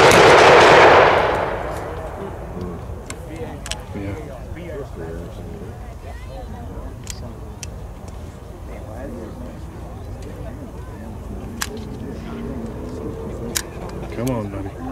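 A WWII Browning Automatic Rifle (BAR) fires blanks at a USMC weapons demonstration, a loud opening burst followed by scattered distant pops and crowd noise through the rest.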